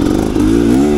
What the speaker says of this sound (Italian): La moto sale veramente con tanta semplicità